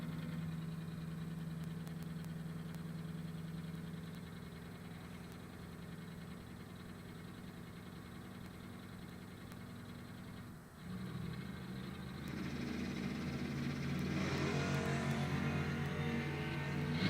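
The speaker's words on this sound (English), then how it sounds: "Richie is dialed 816 right side in his Ford-powered rear-engine dragster" A Ford-powered rear-engine dragster idles with a steady low rumble at a bracket racing event, then the engine note rises and grows rougher toward the end, loud and continuous with no talking.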